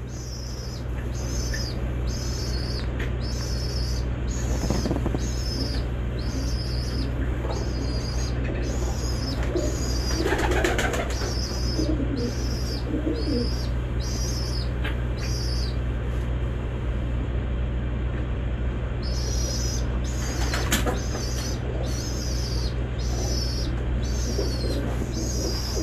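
Domestic pigeons with closed tails coo softly and steadily, with occasional brief bursts of wing flapping around the middle and near the end, heard at low level against a constant background hum.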